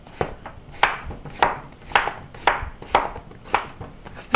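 A knife chops steadily through firm zucchini on a cutting board into about 1.5-inch slices, about eight sharp, evenly spaced cuts with brief scraping between them, close and clear.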